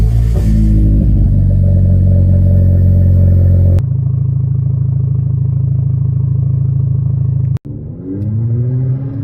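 A GAC GS3 Emzoom compact SUV engine revs hard and loud with deep rumbling harmonics, settles into a steady throaty drone, cuts out briefly, then rises again.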